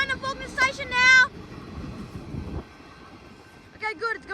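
Suburban train passing a level crossing on Boundary Road, a rumbling roll of wheels and carriages under occasional horn-like tones and brief talk nearby.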